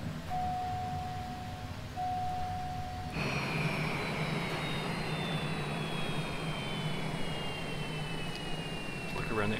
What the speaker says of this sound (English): Put the parking brake on. Shut the engines down.